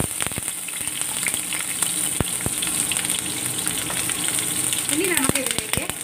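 Chopped garlic frying in oil, a bright continuous sizzle close up with spatula scrapes and stirring clicks, swelling slightly near the end.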